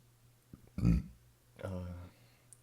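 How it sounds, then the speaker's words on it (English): A single deep, short burp from someone close by, with a voice speaking briefly right after it in a quiet room. "it's sorry for that burp"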